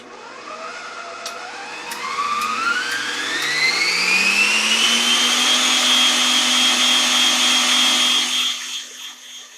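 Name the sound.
Nurxiovo stand mixer running with whisk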